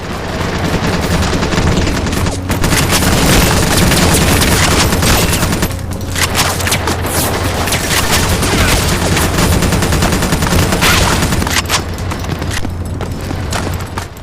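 A mobile first-person shooter game on Android or iOS blasts dense, continuous gunfire, with rapid bursts and booms layered into a loud, unbroken barrage.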